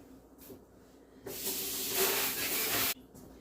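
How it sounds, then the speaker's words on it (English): A faucet sprayer blasts water to rinse out a French press in one steady, loud hiss lasting under two seconds, starting and stopping abruptly, with no voices over it. "if you have a sprayer on your faucet, that works really well. To spray that."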